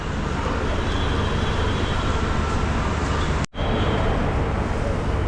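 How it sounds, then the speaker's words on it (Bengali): Loud, continuous rumble and roar of the Sairang–Kolkata Express on its inaugural first commercial run, close by and sustained, broken by one abrupt momentary dropout partway through. "এই দেখুন সাইরাং কলকাতা এক্সপ্রেস।"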